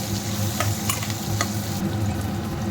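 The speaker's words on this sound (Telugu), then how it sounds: "సొరకాయ ముక్కలు ఎర్రబడ్డాయి ఇంకా కొద్దిగా వేగనిద్దాం" Pieces of bottle gourd fry in a pan, a continuous close sizzle with occasional stirring scrapes and light clicks, steady and even throughout with no talking.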